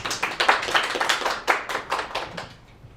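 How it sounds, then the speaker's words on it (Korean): An audience at a Korean book concert claps in welcome, a short burst of brisk applause from a modest crowd that tapers off after a few seconds. "네, 박수로 환영해 주세요."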